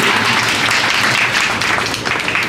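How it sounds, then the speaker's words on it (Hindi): A crowd of devotees at a Shri Narayan Jayanti festival at an ashram claps loudly and continuously, a thick, even wash of applause. "अरे तालियां कम है,"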